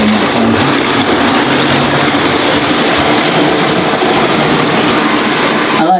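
Model railway diesel locomotive running on a home layout, a loud continuous mechanical whir and rumble held steady throughout, close to the microphone with no talk.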